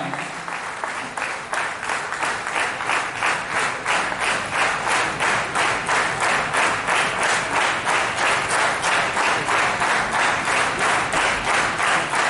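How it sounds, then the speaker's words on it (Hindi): A crowd at a cycle rally reception claps loudly and steadily, settling into a rhythmic, unison beat that continues throughout without speech. "इसके लिए भी जोरदार तालियां।"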